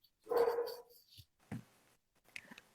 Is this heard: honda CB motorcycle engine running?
no